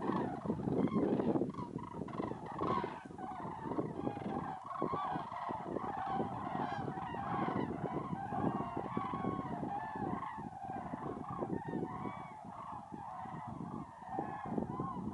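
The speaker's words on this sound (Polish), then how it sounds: "i milion gęsi." A large flock of geese at Lake Szatkie honks and gabbles continuously, a dense overlapping chorus of many birds heard from fairly close by with a steady background hum.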